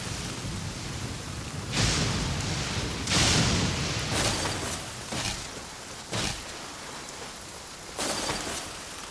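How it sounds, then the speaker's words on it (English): Steady rain falls in Genshin Impact, a continuous hiss of heavy rainfall with several louder gusts and surges rising and falling, heard alone without voices. "Let us find shelter from the rain."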